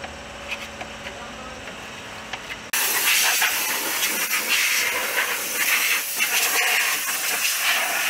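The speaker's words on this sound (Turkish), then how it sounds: "Önce havayla tozunu pisini akıtıyoruz." Compressed air blowing dust and dirt off a Renault Megane 1 2.0 engine crossmember, a loud continuous broadband hiss that starts abruptly after a quieter stretch and runs steadily to the end.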